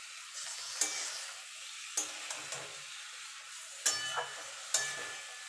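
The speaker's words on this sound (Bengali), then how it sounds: "এবার এটাকে একটু মিনিটখানিক ভালো করে মশলার সঙ্গে নাড়াচাড়া করে নেব।" Boiled vegetables stirred with spice paste in a pan for Bengali dudh shukto: a low, steady sizzle broken by several sharp scrapes and taps of the spoon at uneven intervals.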